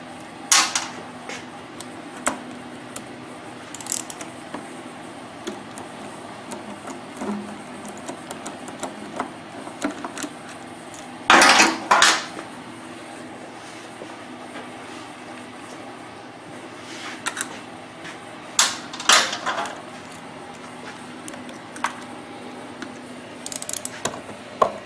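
Bolts being unscrewed from the valve cover of a Predator 2000 generator, heard as scattered short metallic clicks and ratcheting bursts over a steady low hum, close by with no talking.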